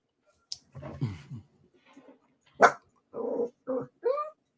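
A dog barks and growls close by in a few short, separate bursts, with rough low growls followed by sharper yips and whimpering barks, set against quiet gaps.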